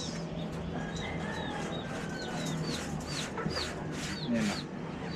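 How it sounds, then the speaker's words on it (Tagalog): Chickens cluck and chirp in short repeated calls at moderate distance over steady outdoor background noise, with faint voices in places. "May manok."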